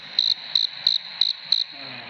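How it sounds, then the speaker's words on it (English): Crickets chirp in five evenly spaced, bright pulsed bursts, fairly close and clear, followed by a faint low hum at the end with no talking. "I missed my crickets. They're my loyal crickets."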